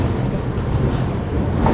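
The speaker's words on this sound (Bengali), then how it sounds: "বেশ কিছুক্ষণ দাঁড়িয়ে থাকার পর ফাইনালি ঝাঁসি স্টেশন থেকে আমাদের ডিপার্চার হয়ে গেছে।" Pulling out of Jhansi station, the Chambal Express gives off a steady, close rolling rumble with a low wheel drone, continuous and unbroken throughout.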